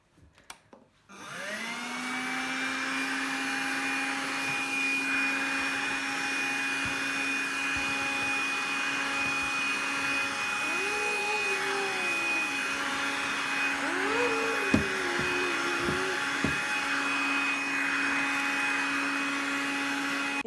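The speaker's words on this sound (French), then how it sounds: "Donc Jonathan est enfin allé acheter l'aspirateur de table." A Silvercrest handheld table vacuum cleaner from Lidl switches on with a few clicks and then whines steadily and loudly up close, with a strong tonal hum and brief pitch wobbles and clunks as it moves over surfaces.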